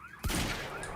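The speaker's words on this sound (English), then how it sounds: "Nice chill! Suppressor fire!" Suppressed gunfire in a Remedy video game: a sharp burst that opens a dense run of rapid muffled shots, loud and close, continuing without a break to the end.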